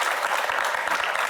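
Audience applause at an interview event for the film 2018, a dense steady patter of many hands clapping throughout, fairly loud and even with no voices over it.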